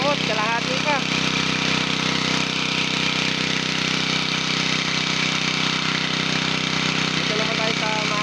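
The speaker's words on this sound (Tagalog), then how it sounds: "Dito naman tayo sa makina." Continuous loud engine drone with a steady mechanical hum throughout; a voice speaks briefly at the start and near the end.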